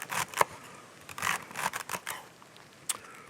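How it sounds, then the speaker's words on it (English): Celery stalks being cut by hand for a classic Waldorf salad, heard as a few crisp, separate snips and crunches close by, with quiet pauses between them and no talking. "This is a great way of cutting the celery."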